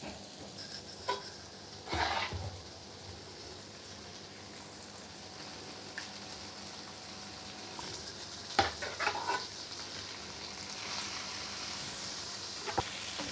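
Saag greens added to minced meat cooking in a pan, a steady low sizzle broken by a few scraping stirs and clatters, close and without talk.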